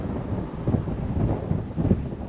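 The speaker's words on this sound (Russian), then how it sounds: "Ветер по-прежнему дует" Strong wind blows beside a lake, a low, steady rumble buffeting the microphone in uneven gusts, close and with no voices.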